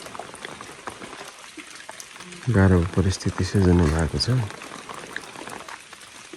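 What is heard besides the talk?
rain falling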